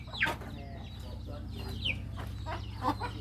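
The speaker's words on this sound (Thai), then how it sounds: "ไก่เพิ่นหลายเลย" Several chickens on a rural Thai family farm where ducks and pigs are also kept, giving short clucks and squawks at intervals over a steady low hum, fairly near.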